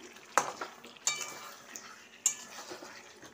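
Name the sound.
stirring salted curry in a pot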